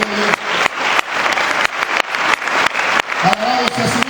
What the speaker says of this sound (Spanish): ¿Cuántos pueden alabar a Dios con un gran aplauso en esta mañana?